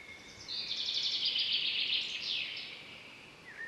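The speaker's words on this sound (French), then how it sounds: "elle a juste entendu les oiseaux qui se sont mis à chanter" Birds begin singing at dawn in an African village setting, a bright cluster of high chirps and trills rising over a steady hiss of ambient noise, fairly faint and continuous.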